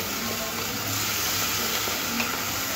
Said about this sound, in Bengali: এবার জল দিয়ে মশলাটা কষলে খুব ভালো লাগবে